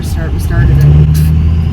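A 2JZ engine in an S14 drag car, tuned on ethanol and methanol, runs on its first start with a loud, steady low rumble and a brief swell in the middle while voices talk over it.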